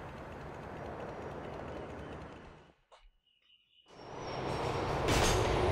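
A subway train in GTA IV rumbles loudly past at close range, drops to near silence for a moment, then roars back in with a steady rush and a faint metallic squeal.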